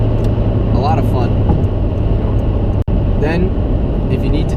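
A 2001 VW Jetta 1.8T accelerating under turbo boost, with a loud steady engine and road drone throughout while someone talks over it.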